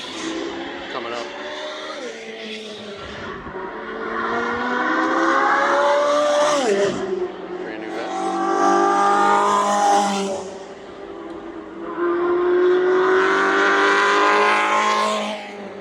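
Race cars lap the Lime Rock Park road circuit, their engines rising and falling in repeated loud passes that build and fade, with talk over the engine noise.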